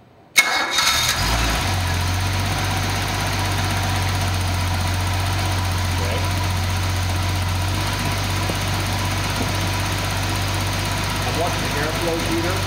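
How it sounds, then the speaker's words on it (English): A Datsun 280ZX turbo engine cranks and fires, then settles into a steady, loud raised idle that drones continuously, with a slight shift partway through. "We'll start it. Set the idle up to 2500 RPM."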